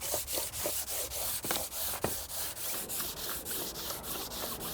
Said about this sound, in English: give this a quick sanding.